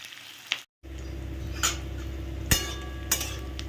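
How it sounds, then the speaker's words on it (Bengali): Onions frying in a pan until browned, a steady sizzle close by, broken by a few sharp clinks of a utensil against the pan. "একটু সুন্দর করে লাল লাল করে ভেজে নিই"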